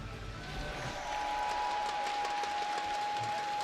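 A crowd at an esports grand final, the HGC Finals 2018 for Heroes of the Storm, breaks into steady applause and cheering that swells and holds, a dense clapping wash heard from within the arena.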